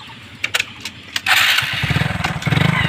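A Hero Super Splendor motorcycle engine running close by, its low mid-range putter rising with throttle after a few sharp knocks and clatters at the start.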